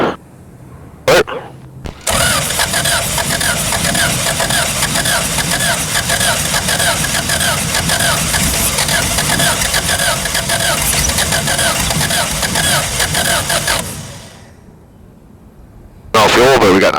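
Air-cooled VW engine on a Sonex aircraft cranking over, a loud steady churning drone lasting about twelve seconds before winding down, with a brief click beforehand and another burst at the end.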